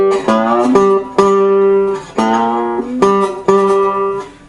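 A slide guitar plays a short blues phrase, with notes plucked in clear groups and gliding up the fretboard, close and loud with no talking.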